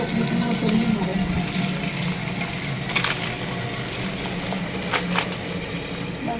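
Water carrying grated potato shreds pours through a basket in a home kitchen, a steady close splashing rush with a few brief louder spatters along the way.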